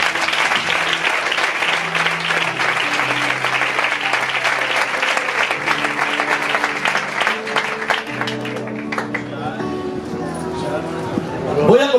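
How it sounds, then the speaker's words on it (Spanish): A church audience breaks into sustained clapping, loud and continuous, with organ or keyboard notes sounding beneath and a voice coming in as the applause thins toward the end. "Denle el mejor aplauso que tengan para ellos."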